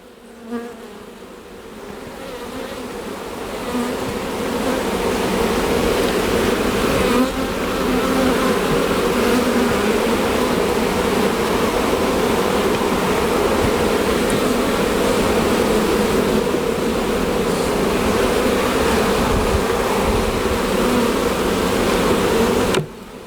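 Honey bees at an opened hive drone in a loud, steady, dense buzz that swells early and holds unbroken throughout.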